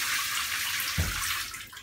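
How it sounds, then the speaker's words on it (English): A ceiling-mounted rain shower running in a hotel bathroom at Toyoko Inn Tokyo Narita Airport: a dense, steady hiss of falling water, close and loud, with a brief dull thump near the middle. "we also have in the ceiling a rain shower"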